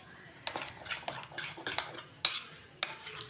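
Pakora batter of rice flour and water is mixed in a bowl, with a steady wet stirring swish and several sharp clinks of a utensil against the bowl, close and moderately loud.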